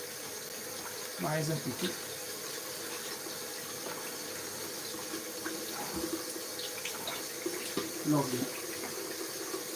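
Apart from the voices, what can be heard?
tap water running while washing something in the sink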